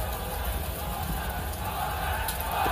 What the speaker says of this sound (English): The crowd's chanting Corona.